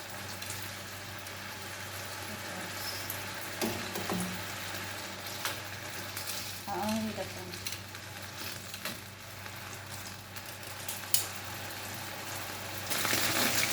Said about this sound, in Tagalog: ngayon habang naghihintay tayo na maging fry yung patatas natin